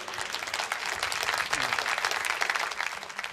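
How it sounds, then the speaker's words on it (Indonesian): Steady crowd applause from an audience of adults at a talk, a thick, even wash of many hands clapping throughout, with no speech over it. "Tepuk tangan Bapak Ibu"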